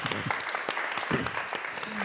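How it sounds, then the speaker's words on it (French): Scattered clapping from a parish gathering audience, thin and uneven, with voices talking over it throughout this brief stretch. "nous allons vous applaudir pour votre témoignage et votre investissement"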